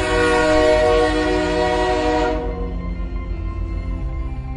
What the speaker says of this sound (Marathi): अँड फायनली ट्रेन इली बाबा.